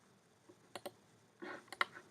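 Faint, quick clicks of a computer mouse being right-clicked, a few soft taps scattered over two seconds in a quiet room.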